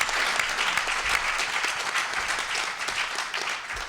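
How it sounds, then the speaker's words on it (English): An audience at a community forum on youth violence gives a warm, continuous round of applause, a dense and even wash of clapping that stays fairly loud throughout. "we need to give Tracy a big round of applause because this never happens without her."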